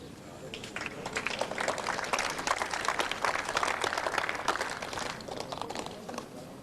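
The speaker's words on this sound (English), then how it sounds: "You heard the applause there from the gallery." Gallery spectators at a New Zealand versus England bowls singles test match applaud, a dense patter of clapping that swells, holds for several seconds and then thins out, moderately close.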